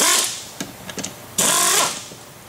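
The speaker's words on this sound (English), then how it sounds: "if you have a butterfly wrench, that usually works the best, any type of air." An air-powered butterfly wrench spins off the clutch lock nut on a Sanden SD7 or SD5 compressor in two short, buzzing bursts, the second slightly longer. A few faint knocks sit between them.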